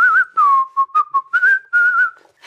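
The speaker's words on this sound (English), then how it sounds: "your whistling sounds great!" Someone whistles a short, clear melody in a string of quick notes, close and loud, with brief pauses between phrases.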